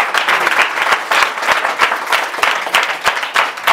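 A church congregation at a Sunday service claps loudly and rhythmically, sharp regular claps over a dense wash of hand noise close to the microphone.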